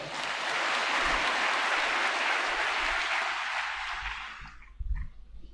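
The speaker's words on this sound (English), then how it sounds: "May we please give the special guest of honor a round of applause." A steady round of clapping from a crowd lasts about five seconds, then tapers off, leaving a few scattered knocks.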